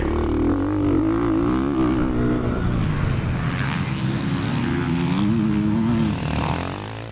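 A Ducati Desmo 450 dirt bike ridden around a motocross track, its engine droning loud and steady with rising and falling revs as it passes, near and continuous, with no voices.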